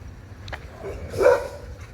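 A dog barks once, fairly near, amid low background noise.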